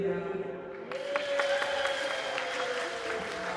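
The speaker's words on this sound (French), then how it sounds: "Applaudissez s'il vous plaît." Applause from guests at an 80th birthday celebration, a steady wash of clapping throughout, mixed with a sustained musical tone or singing voice.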